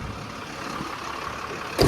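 Truck loaded with dirt pulling in, a low rumbling engine under a hiss of outdoor noise, ending in a short loud clunk or bang.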